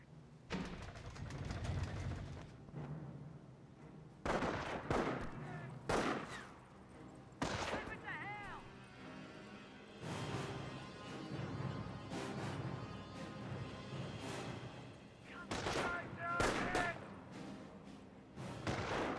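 Gunfire and explosions crash repeatedly through a Company of Heroes 1 battle between US and Wehrmacht forces, loud bursts coming in irregular clusters over a busy background of battlefield noise.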